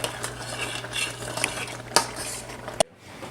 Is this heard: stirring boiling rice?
yes